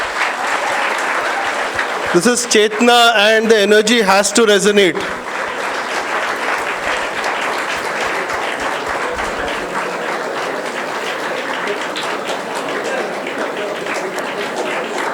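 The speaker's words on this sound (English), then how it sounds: "A louder round of applause" An audience at a conference inauguration keeps up continuous applause throughout, with a person speaking briefly over it early on.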